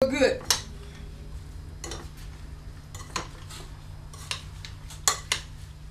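Brown sugar and flour get mixed into sliced apples in a bowl, heard as soft stirring under a low background hum, broken by several sharp clinks and knocks of a utensil against the bowl.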